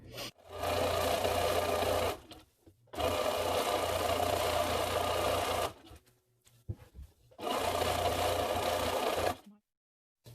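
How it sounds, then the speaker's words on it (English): A sewing machine stitches ripple fold heading tape onto reused drapes, running in three long steady bursts of close, continuous whirring separated by short pauses. "we are ready to sew the tape on"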